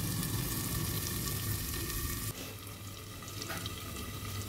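Mutton pieces fry with spices in a pan, a loud, dense sizzle that drops suddenly partway through and carries on softer with faint stirring scrapes.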